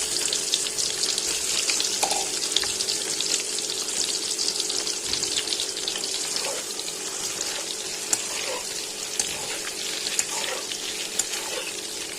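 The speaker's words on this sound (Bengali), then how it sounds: "হলুদ লবণ মাখায় তেলে ভাজছি" Eggs coated in turmeric and salt fry in hot oil, giving a loud, steady, crackling sizzle that runs unbroken from start to finish with no voices over it.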